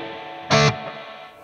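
Electric guitar through a Boss GT-1000 into a tube amp with spring reverb turned up: a single bright strummed chord bursts loudly for a moment, then decays into a washy, lingering reverb tail.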